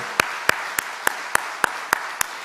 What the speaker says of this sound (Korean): 기도 가운데 역사하신 주께 감사의 박수를 드립시다.